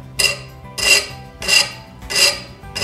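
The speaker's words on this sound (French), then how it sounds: "Prenez une lime à métaux et vous limez." A metal file rasps along the edge of a cut ceramic tile in four slow, even strokes, each a loud gritty scrape with short pauses between, close up and with no talking.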